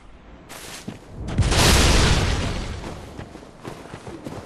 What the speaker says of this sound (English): trying to get the cannon to shoot behind you